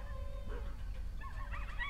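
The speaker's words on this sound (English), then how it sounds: "That's the neighbor's dogs." Small neighbourhood dogs yip and bark outdoors in a quick, high, overlapping run that grows busier toward the end, fairly distant against a low background rumble.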